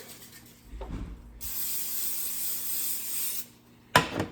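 A brief hiss of cooking oil spray onto a warming pan lasting about two seconds, preceded by a soft scrape and followed by a sharp clack.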